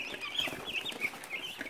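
Meat chickens in a farm coop cluck and squawk in a busy, overlapping chatter, several birds close by with irregular rising calls and no talking.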